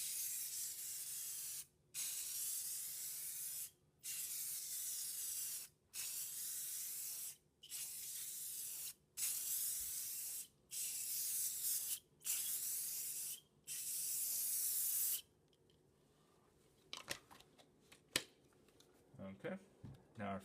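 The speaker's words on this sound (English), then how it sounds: "we're going to go ahead and do our first coat" Aerosol can of lacquer clear coat sprayed onto a carbon fiber wrap in a series of about ten steady, hissing bursts separated by short gaps, followed by quieter handling noises.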